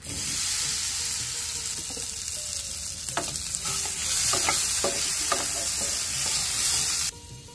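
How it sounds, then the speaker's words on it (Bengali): Potatoes fry in a pan with a steady bright sizzle and scattered scraping clicks as they are stirred, no talking. "আলুগুলোকে ঢেলে দিচ্ছি।"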